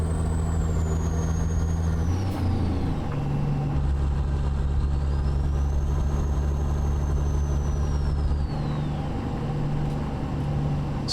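Caterpillar ACERT C15 diesel truck engine, modded into American Truck Simulator, drones steadily for the whole stretch, with deep low harmonics shifting as gears change and a high whining tone rising and falling above it. No talk.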